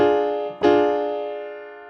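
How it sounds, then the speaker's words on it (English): A diminished triad in root position is struck twice, most likely on piano; a soft first attack is followed by a clear, louder re-strike that rings out and slowly decays, with no talking. "If we play a diminished triad root position."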